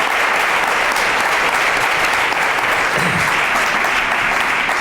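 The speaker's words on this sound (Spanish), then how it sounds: "pues ya un aplauso para Daniel" Sustained, dense applause from a large audience, steady and loud throughout with no pauses.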